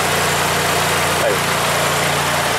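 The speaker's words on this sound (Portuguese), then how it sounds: "motor funcionando, o compressor ligado" A Renault Clio engine idles with the air-conditioning compressor running, a loud, steady, close rumble with an even low drone and no change in pace.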